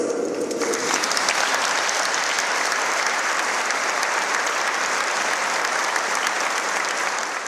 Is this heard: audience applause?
yes